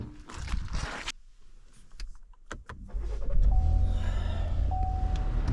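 Loaner car: an electric window motor whirs, a few clicks and thumps follow, then the engine settles into a steady low rumble while driving, near and moderate in level.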